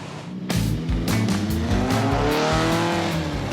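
A classic Dodge Charger engine starts up and runs loudly and close, its revs rising and wavering in a continuous rough drone.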